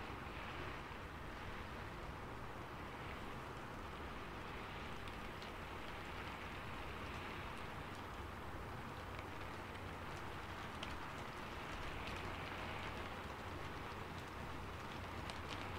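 Steady rain falling without a break, a broad even wash of hiss that stays constant and fairly loud throughout, with no voices.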